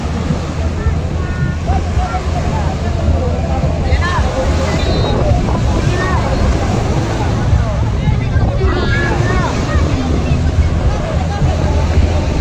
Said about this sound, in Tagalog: Malalaki alon, malalaki.